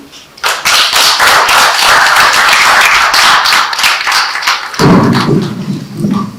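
A conference crowd applauds with dense, lively clapping that fills the room, continuing steadily before thinning toward the end.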